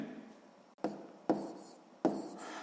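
Pen writing by hand on paper during a sixth-grade maths exercise: soft scratching strokes with three sharper taps as the pen lands, close and alone.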